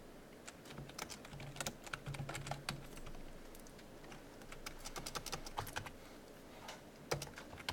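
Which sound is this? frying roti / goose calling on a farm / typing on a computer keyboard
typing on a computer keyboard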